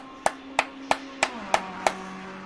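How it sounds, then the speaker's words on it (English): Six sharp hand claps spaced evenly about a third of a second apart, close and crisp over a steady low hum, with no voices. "I'm giving him the clap."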